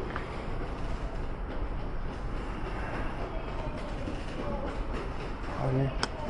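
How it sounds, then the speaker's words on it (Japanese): A Kobe subway train runs with a steady, loud rumble of wheels and motor noise, and a brief chime or announcement tone near the end, while a person talks faintly in the background. "神戸の地下鉄ね"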